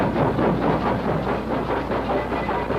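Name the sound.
train jolting away, sound effect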